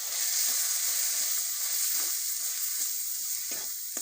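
Ginger-garlic paste, turmeric, salt, cumin, coriander and chili powder sautéing in a pan for Bengali chicken kosha, a steady close sizzle with faint stirring scrapes throughout.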